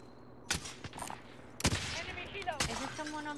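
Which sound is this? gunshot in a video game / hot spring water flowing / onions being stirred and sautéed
gunshot in a video game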